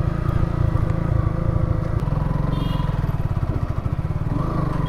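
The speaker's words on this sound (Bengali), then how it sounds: "বাইক চক ছাড়া বাইক স্টার্টই নিচ্ছে না" A Suzuki Gixxer motorcycle that is losing power idles close by at a showroom, its engine chugging in a steady uneven rhythm with a rattling clatter.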